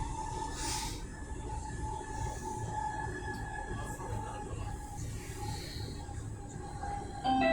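A Stockholm metro and commuter train runs on its route with continuous rumbling wheel and track noise, faint high squealing from the wheels drifting in and out over the steady roar.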